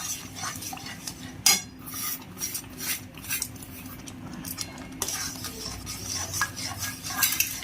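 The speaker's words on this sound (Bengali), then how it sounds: "1 হাত দিয়ে সুজি আর 1 হাত দিয়ে এই খুন্তিটা নাড়তে থাকবেন" A spatula stirs semolina into boiling water in a pot, giving continuous close scraping and swishing with occasional louder knocks against the pan, steady throughout.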